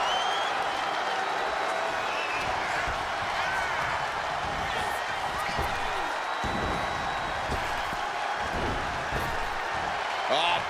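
A crowd cheers and applauds in a WWE 2K25 wrestling match in the video game, a steady arena roar throughout with occasional thuds of in-ring impacts, fairly faint and even.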